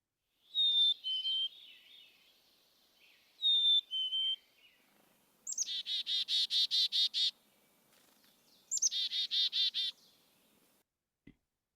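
Recorded black-capped chickadee calls: two clear whistled two-note phrases, then two bursts of rapid, buzzy dee-dee-dee notes, crisp and close against a quiet background.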